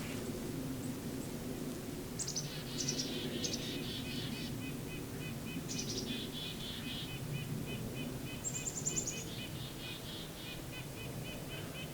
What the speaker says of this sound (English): the nuthatches are angry about something, as are the chickadees